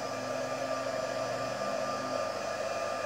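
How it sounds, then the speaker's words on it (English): A heat gun heat-sets shimmer embossing powder on a handmade card, its blower giving a steady, close whirring roar with a faint electric hum that holds unbroken throughout. "So I'm going to take my heat gun, because this is just like embossing powder."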